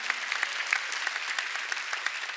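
A church congregation claps during a Sunday worship service, with brisk scattered applause that stays even and fairly close throughout, with no speech over it.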